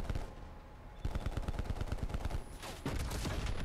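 Gunfire in Black Ops Cold War, heard as a quiet lull followed by rapid, loud bursts of repeated shots.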